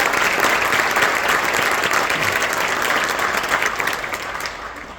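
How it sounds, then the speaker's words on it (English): An audience in a hall applauds at a high school National Honor Society induction ceremony, dense steady clapping that is loud and sustained, then gradually thins and fades toward the end. "Please join me in thanking them with a round of applause."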